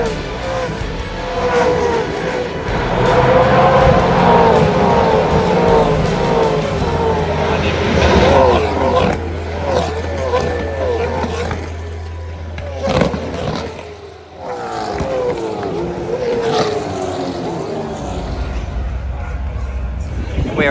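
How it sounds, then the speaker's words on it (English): Supercars race cars roar past at the Australian Grand Prix in Melbourne, engine notes rising and falling as they pass, loud and close over crowd noise. "Time for a supercars race."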